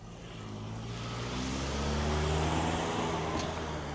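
A loud car engine without a muffler drones close by, low and rough, swelling slightly as it passes, with a broad roar of road noise around it and no talk.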